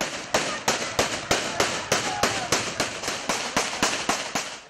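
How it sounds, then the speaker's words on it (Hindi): Fireworks and celebratory gunfire at an election celebration crack out in a rapid, steady string of sharp, loud bangs, about three per second, with no pause between them. "कारकुनों की जानिब से आतिशबाजी का मुजाहरा भी हुआ।"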